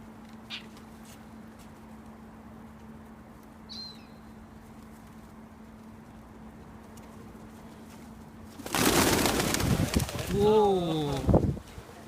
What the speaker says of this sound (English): You see these pigeons?